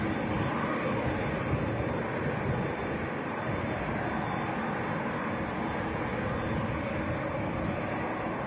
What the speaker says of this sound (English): Next to land in from Nice is the Phenom 300.